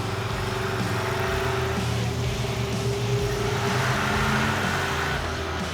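Stubby Bob, a shortened car, pulls hard in first gear, its engine a steady, loud, continuous drone heard from inside the cabin, with no talk over it.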